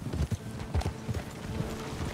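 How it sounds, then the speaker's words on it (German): Horses' hooves clip-clop in the video game Red Dead Online, a quick irregular run of soft hoof beats at moderate distance, faint and without voices. "Ach, das sind Pferde."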